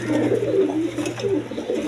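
Reshar pigeons on sale give soft, steady cooing close by, a continuous low murmur with a faint hum in the background.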